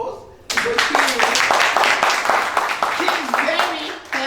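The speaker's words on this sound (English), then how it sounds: "I think that you need to give her applause" An audience at a community food taste-off event claps and applauds steadily, a dense close patter of hands that starts abruptly and carries on throughout, with a voice speaking over it.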